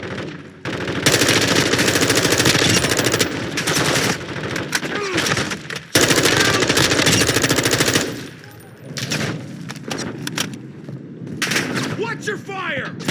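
Machine gun fire in Call of Duty Warzone, loud rapid automatic bursts in long sustained runs with short pauses, plus scattered shots, with a voice speaking partway through.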